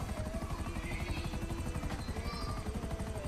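A helicopter's rotor thumps in a steady rapid beat with engine whine on top, continuous and moderately loud throughout, in the video game GTA V.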